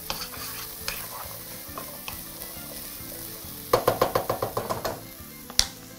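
Beans and onions being stirred in a hot pan, a steady sizzle under scraping and knocking of the utensil, with a quick run of sharp clicks near the end, close and moderately loud.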